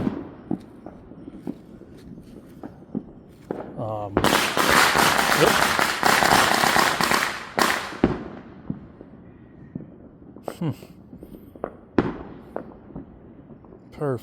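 Fourth of July fireworks and firecrackers pop outside at night, scattered sharp bangs around a long dense crackling barrage in the middle, some distant whistles, with a person talking in between.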